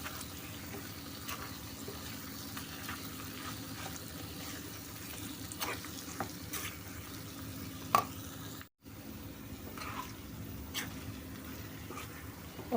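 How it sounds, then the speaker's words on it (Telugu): Cooked gongura leaves are being stirred into a chicken curry in a pan, giving a soft, steady sizzle with scattered scraping taps of the spoon and a brief pause near the end, without talk. "ఒకసారి గోంగూర మొత్తాన్ని కర్రీకి కలుపుకుందామండి."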